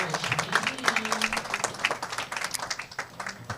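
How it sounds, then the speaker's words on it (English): Audience at the PWBA Greater Dallas Regional bowling finals claps for the women finalists, a steady spatter of applause from a modest crowd, moderately close and unbroken, with faint speech underneath. "Please give these ladies a huge, huge round of applause as we crown our champion."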